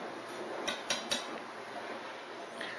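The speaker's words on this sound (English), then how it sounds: "And then you chop it up in little pieces." Cheap bacon, three or four strips, chopped into little pieces with a knife: a few scattered, faint knife taps on a cutting board, with a sharper knock at the very end and no talking.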